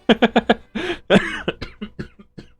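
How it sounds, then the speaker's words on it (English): A single person coughs in a rapid run of sharp, close bursts, then a rougher hack and several fainter, spaced coughs that trail off, with no talking. "Why am I coughing now?"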